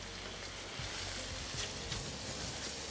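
Breakfast smashburger patties crisping and browning on a flat griddle give a steady, close sizzle with a few faint scraping ticks, no talk over it.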